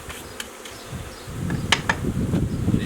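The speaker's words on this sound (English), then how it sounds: "These bees are not happy." A mass of honeybees buzzing close by at a hive on an overcast day, a dense low drone that swells louder after the first second and stays agitated.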